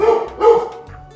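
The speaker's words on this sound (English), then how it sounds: "There's my doggy." A pet dog barks twice, close and loud, in a home kitchen, short sharp woofs followed by a softer whimpering trail.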